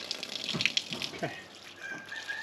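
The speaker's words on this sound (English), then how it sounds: "I'm just slowly filling up the water" Water trickles and gushes from a tap into a rabbit watering system, a steady wet splashing with a few brief voice sounds mixed in.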